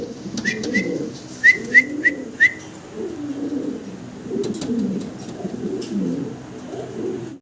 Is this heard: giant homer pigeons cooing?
yes